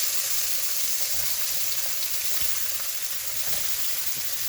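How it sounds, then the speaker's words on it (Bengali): Orata sea fish fries in a pan with a steady, dense sizzle and faint spatters, continuous and close throughout. "এই যে এটা একটু ভেজে নেব।"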